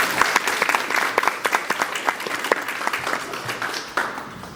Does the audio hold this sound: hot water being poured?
no